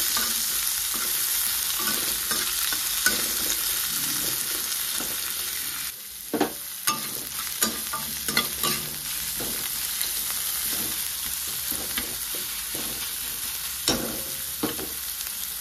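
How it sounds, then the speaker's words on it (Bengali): Sliced onions frying in oil with kalonji and dried red chilli for a Bengali bata fish curry, a loud continuous sizzle with repeated scraping stirs of a spatula throughout, no talk. "এবারে দিয়ে দিচ্ছি স্লাইস করে কেটে রাখা পেঁয়াজ। পেঁয়াজটা ভালো করে আগে ভেজে নেব।"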